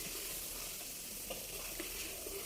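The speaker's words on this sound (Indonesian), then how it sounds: "Ini sambelnya kita matengin lagi" Sambal chili sauce heating in a pan while catering boxed rice meals, a faint steady sizzle and soft bubbling with a few light stirring scrapes, no voices.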